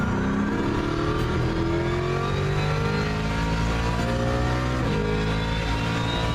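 A Ford Mustang engine in a racing sim video game revs continuously, its pitch climbing through the gears with a shift around the five-second mark, loud and close with no talking.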